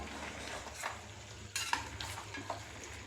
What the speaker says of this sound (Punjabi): ਇਹਨੂੰ ਹੁਣ ਆਪਾਂ ਜਿਵੇਂ ਜਿਵੇਂ ਹਲਾਈ ਜਾਵਾਂਗੇ ਤੇ ਉਵੇਂ ਉਵੇਂ ਇਹ ਬਣੀ ਜਾਏਗਾ